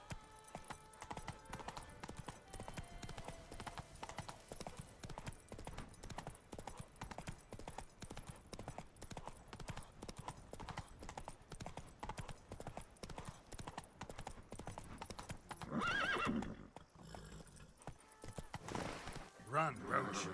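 Hooves of Roach, a horse in a video game, gallop in a fast, continuous clip-clop rhythm over twenty seconds, with a louder rush near the end and voices speaking over it.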